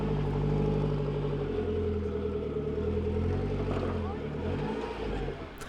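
A 4x4 on big mud-terrain tires climbs a steep off-road hill during a club challenge qualifying run, its engine droning loud and steady with rising revs, close up, with a commentator talking over it.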